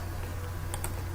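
Numbers are typed into a calculator on a computer keyboard: two quick, faint key clicks close together over a steady background hum.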